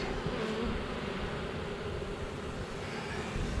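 Honey bees fanning at a swarm trap make a steady, dense buzzing drone, close and continuous throughout, with no talking.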